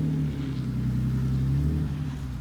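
A BMW 332i engine running at a steady, low droning idle with a strong rumbling hum, close and continuous, with no clear rise into a rev.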